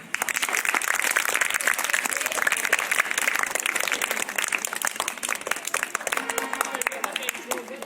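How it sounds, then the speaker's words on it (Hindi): An audience at a school quiz programme breaks into sustained applause, dense clapping from many hands filling the room for several seconds, with a voice speaking over it. "तालियां बजाइए।"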